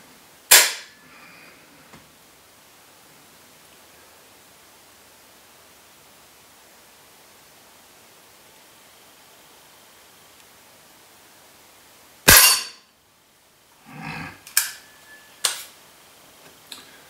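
Sharp, loud single shots from a Weihrauch HW75 Target air pistol on a range at about 11 meters, with one shot early, long quiet gaps, then a cluster of shots and clicks near the end.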